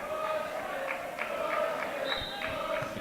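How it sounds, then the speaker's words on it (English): High-school boys' basketball crowd in a gym, WHS against Boston Latin, reacts to a referee's call with a steady murmur and scattered shouts, while sneakers squeak faintly on the court. "The crowd doesn't agree with that call."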